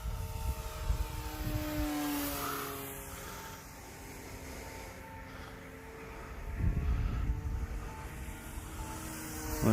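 A radio-controlled propeller airplane's whine sweeps past at full speed at a distance, rising and fading, with wind noise and a louder rumble toward the end.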